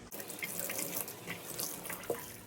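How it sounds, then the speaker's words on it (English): Tap water runs steadily as white canvas sneakers are soaked at a sink before brushing, a continuous close splashing wash with a brief brighter splash near the end and no voices. "what I'm going to do first is I'm going to go ahead and completely soak the shoes"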